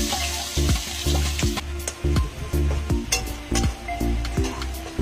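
Onion dropped into hot oil already holding bay leaf, dried chili and cumin, sizzling steadily and close up, with repeated clinks and scrapes of a spoon stirring against the pan.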